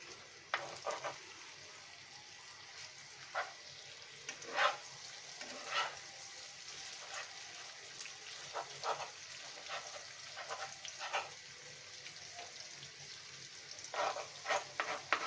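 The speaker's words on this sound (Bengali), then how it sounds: "আমরা তেলটা বেশি দিলাম কারণ ডিমটা আমাদের খুব সুন্দর করে ভাজতে হবে" Rui fish roe fries in a generous amount of hot oil with a continuous sizzle, crackling with scattered sharp pops and spatters at an uneven rhythm, close and moderately quiet, with no talking.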